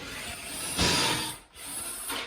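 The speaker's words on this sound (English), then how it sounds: "Next we're doing the pocket jig holes for the skirt." Close drilling of pocket holes with a pocket hole jig into wood for a platform bed skirt, a loud rough grinding burst that briefly cuts out before the bit whirs again.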